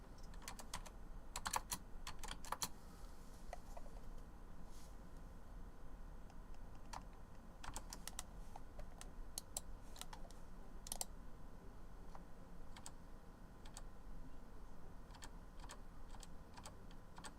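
Steady typing on a computer keyboard during coding, a continuous run of quick, close key clicks with occasional louder bursts. No voices.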